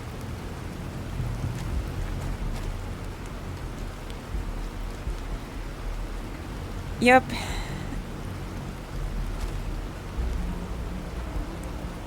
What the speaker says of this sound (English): And just when I think everything is good in that, now it starts to rain.